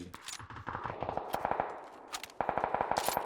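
Rapid bursts of machine gun fire in a multiplayer shooter video game crackle in quick rhythmic volleys, pausing briefly before a louder, sharper string of shots.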